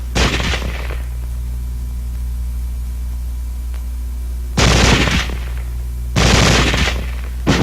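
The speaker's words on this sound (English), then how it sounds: "Weapons giving automatic fire will fire continuously as long as pressure is applied to the trigger or until the ammunition is exhausted" Automatic small-arms fire comes in three loud, sustained bursts, one at the start and two later, each lasting about a second, with a steady low hum between them and no voices.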